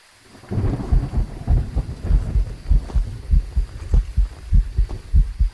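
A heavy, steady heartbeat throbs in the horror video game Phasmophobia on a campsite map, with loud low thumps repeating evenly throughout and no talk.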